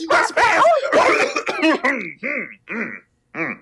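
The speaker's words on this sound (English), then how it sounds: "I heard a cough" Short, rough cough-like bursts repeat in a rhythmic series after a stretch of close talking, sounding almost like small barks.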